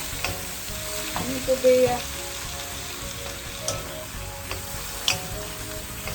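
Seafood and egg noodles sizzle steadily in a hot pan as they are stir-fried, with occasional scrapes and clinks of the utensil against the pan.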